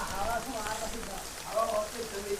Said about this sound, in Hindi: गाइस बारिश बहुत तेज हो गया है यार